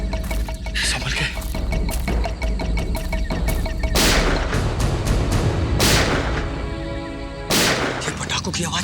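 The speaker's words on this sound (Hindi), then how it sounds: "ये पटाखों की आवाज कैसी आ रही है?" Firecrackers go off in a jungle in a dramatic scene, loud sharp bangs bursting at irregular intervals over a music score, with voices mixed in.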